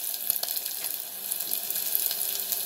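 Fresh mint leaves fry in a pan for ragi soup, giving a steady, bright sizzle that stays fairly close and even throughout, with no talking.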